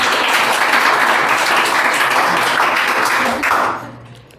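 An audience claps at a Teacher's Day program, a dense, loud wash of applause that holds steady and then fades out near the end.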